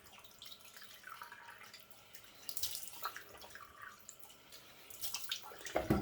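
Cold water runs and splashes from a tap into a sink, quiet and uneven, with trickles and drips swelling in a few louder gushes.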